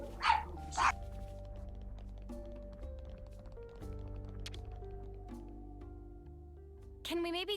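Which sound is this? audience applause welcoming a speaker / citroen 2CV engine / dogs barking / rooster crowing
dogs barking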